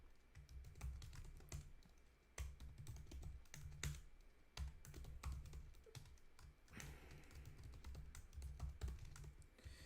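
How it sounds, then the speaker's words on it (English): Code is typed on a computer keyboard in a steady, fast patter of close clicking keystrokes with brief pauses, no voices. "Okay, so I'm gonna type in this code."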